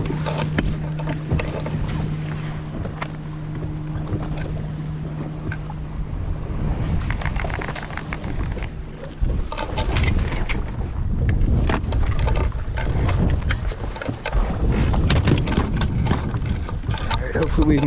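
A boat motor runs on open lake water at Okeechobee during a bass fishing tournament, a steady loud drone with gusting wind and splashing growing rougher partway through, under occasional voices.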